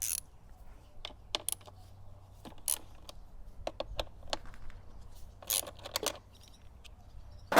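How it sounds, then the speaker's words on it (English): Ratchet with a T45 Torx bit working bolts loose on a KTM 690R, near and fairly quiet: sparse sharp clicks and metallic ticks scattered irregularly over a low steady hum, with a short burst of rapid clicking midway. "we're going to start removing the bolts up here, one side at a time, using the T45 Torx and the ratchet"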